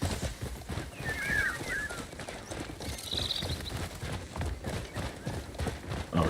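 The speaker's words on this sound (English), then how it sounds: "That horse seems fond of you, Greymane." Steady clip-clop of horse hooves on a ridden mount in a video game, a close, even trotting rhythm with a few faint bird chirps above it.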